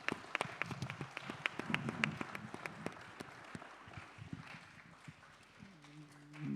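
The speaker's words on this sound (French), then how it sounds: "Merci beaucoup pour vos applaudissements." Scattered audience applause at a live talk on fighting poverty, with sparse claps that thin out and fade, fairly faint against the room.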